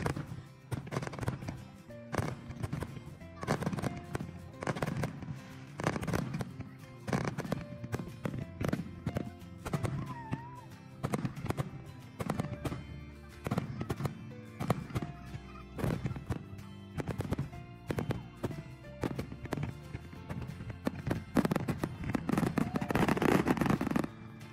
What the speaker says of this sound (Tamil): ஃபயர் ஒர்க்ஸ் பார்த்துட்டு அங்கேயே கொஞ்சம் டைம் ஸ்பெண்ட் பண்ணிவிட்டு